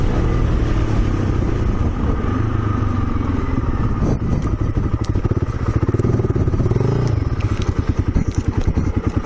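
A motorcycle rides along a dirt road on a bike trip, its engine loud and close throughout, with a rough, rising rev and rattling clatter as it passes.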